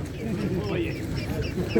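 Ducks quack at an open-air poultry and pigeon market in Płońsk, Poland, with short nasal calls mixed into steady market chatter and nearby voices.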